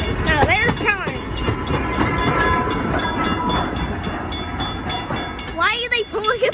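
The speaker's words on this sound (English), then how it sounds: "Now there's Thomas." A Thomas the Tank Engine toy train runs along its track with a steady rumbling clatter, while children's voices talk briefly at the start and end.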